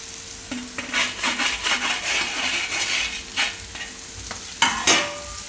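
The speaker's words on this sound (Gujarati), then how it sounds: "હવે આમાં આપણે સૂજી મિક્સ કરી દઈશું." Semolina stirred with a spoon into a curd mixture in a pan for curd upma: steady scraping strokes with a soft sizzle underneath and a couple of sharper clinks near the end, close and fairly loud, with no talking.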